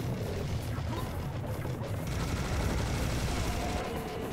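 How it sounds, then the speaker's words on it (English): A Gatling gun fires continuously in the video game Serious Sam HD, a dense, sustained roar of rapid gunfire with heavy low-end thump that stays loud and steady throughout. "I love me this Gatling gun. Yeah, I'm using that right now too."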